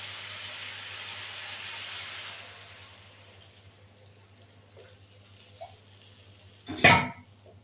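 Water poured into a pan of frying potatoes for a fish and potato curry hisses loudly at first, then fades to a quiet simmer, with a sharp clatter of cookware near the end.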